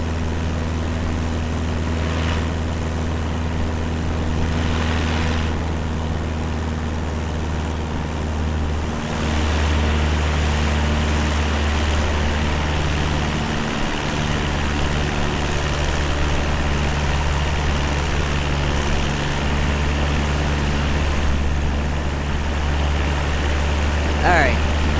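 Steady propeller engine drone of a small aircraft in Microsoft Flight Simulator 2020 over a Hawaiian island, a constant close hum with a low tonal whine, running continuously while people talk over it.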